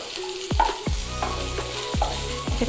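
Masala for a vegetarian egg curry fries in a pan on a gas stove, with a steady close sizzle broken by several sharp stirring knocks against the pan. No talk is heard.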